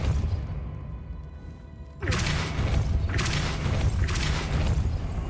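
Depulso force spell cast in Hogwarts Legacy: an abrupt heavy boom with a crackling whoosh, followed by two further surging bursts of rushing noise, loud and close.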